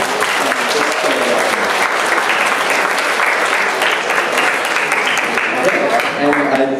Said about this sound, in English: please give her a round of applause for being awesome